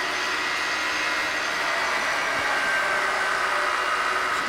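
A brand-new Acra variable-speed vertical milling machine running at high speed, giving a steady, loud broadband mechanical whir and hum that holds constant throughout with no talking.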